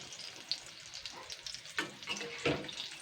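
Quiet sizzling of an egg and flattened rice snack frying in a pan, with a few stirring scrapes and soft clatters breaking through.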